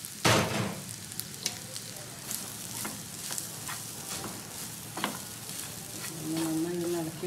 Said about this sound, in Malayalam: ഓയിൽ ഗീ ചൂടായിട്ടുണ്ട്. ഇതിലേക്ക് നമുക്ക് തേങ്ങ ഇട്ടെടുക്കാം.